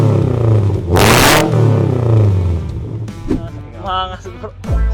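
A 20-year-old sports car's boxer engine with a K&N air intake revs hard in a short, loud burst, then settles into a lumpy idle with smaller blips and rattles, with voices faintly around it.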